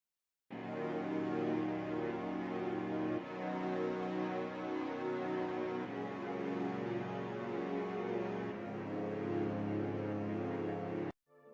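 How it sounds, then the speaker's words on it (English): Sustained synth pad made in FL Studio Mobile, filtered at the top and bottom and treated with chorus and reverb, swells in and holds steady chords for about ten seconds before cutting off abruptly. "For pads I created a FX channel, removed some high and low frequencies, added a chorus and a reverb."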